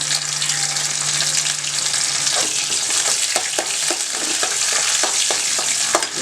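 Steady loud sizzling of curry leaves frying in hot coconut oil, with a series of light stirring clicks and crackles toward the end.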